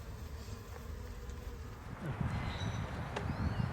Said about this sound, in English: All right, well, there are a few bees I got out of their little packages.